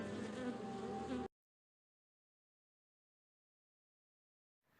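Honey bee buzzing while performing a waggle dance, a steady close hum for just over a second before cutting to silence, with a faint return of sound at the very end.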